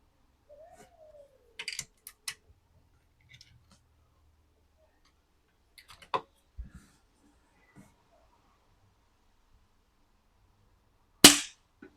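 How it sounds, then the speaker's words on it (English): Three sharp, short pops from an AirArms FTP900 air rifle fired at a target 8 yards away, spaced apart in near silence, with faint handling clicks between them and a louder final crack. "So I've just put 3 shots on the target at 8 yards then"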